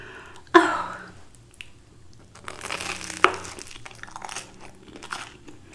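Close, loud crunchy bites into cheesy Parmesan garlic butter bread, a sharp crackling bite followed by a second crunch and chewing, recorded up close with no talking.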